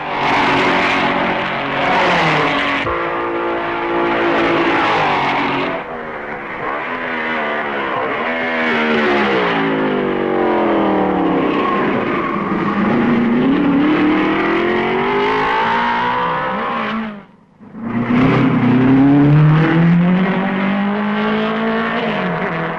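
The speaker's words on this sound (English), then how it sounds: "By a piece of fine driving, Kling passes Musso at Malmedy" Racing cars at the 1955 Belgian Grand Prix at Francorchamps roar past near Malmedy, where Kling's car overtakes Musso's. The engines rise and fall in pitch as the cars sweep by, and the noise dips briefly before another loud pass.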